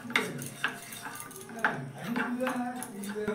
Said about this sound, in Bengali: তেল আর কর্নফ্লাওয়ারটা কিন্তু এখানে মিশিয়ে নিতে হবে।